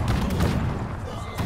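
Cannon fire in the video game Conqueror's Blade: dense, continuous rumbling booms and bursts of battle noise filling the short stretch, with a swell near the end and faint voices mixed in.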